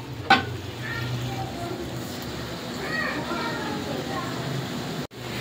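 Spices frying in a pan for khichuri in a home kitchen, a steady soft sizzle running throughout with occasional stirring scrapes, with faint children's voices in the background.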